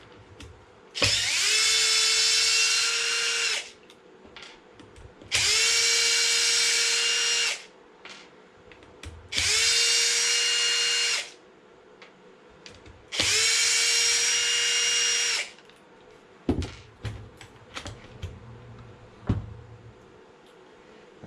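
Power driver run in four even bursts of about two seconds each, whining at steady speed as it drives the rear differential bolts on an Arrma Felony RC car, followed by small clicks and handling noises.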